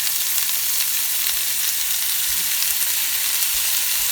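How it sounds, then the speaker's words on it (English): Minced garlic going into hot oil with pork for quick ramen: a dense, even hiss of frying that holds steady and close throughout with no break. "Gonna add in just a little bit of garlic."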